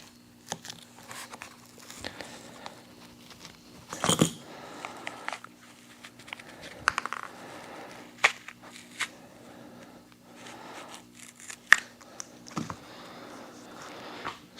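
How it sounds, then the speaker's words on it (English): A utility knife cutting apart a Racor fuel filter, faint scattered scrapes, clicks and crinkling cracks coming in short irregular bursts against near silence. "use a utility knife and cut it apart"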